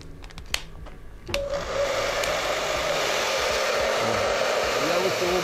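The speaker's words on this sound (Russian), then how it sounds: "Я для этого включаю электрический фен." Electric hair dryer drying a damp plaster sculpture, switched on after a few clicks and then blowing as a steady, close whooshing hum with a faint whine.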